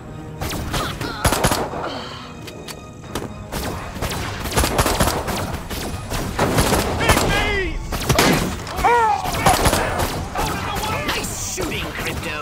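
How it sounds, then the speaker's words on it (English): In the Destroy All Humans game, a disintegrator ray fires repeatedly at police in a noisy fight, with zapping bursts, crashes and impacts mixed with shouting voices. "So I'm unlocking your disintegrator ray. Try it out on the fuzz."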